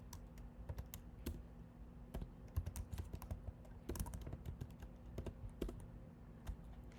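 Quiet computer keyboard typing in irregular bursts of soft key clicks, close up, with a low steady hum beneath and no voices.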